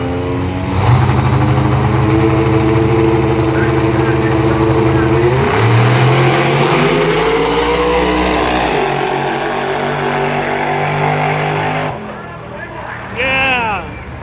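Drag racing cars, a Chevy Nova and a Buick, at a Christmas Tree drag racing event at Bradenton Motorsports Park, roaring loudly as they launch and rise in pitch down the strip, fading out near the end, with a commentator talking throughout.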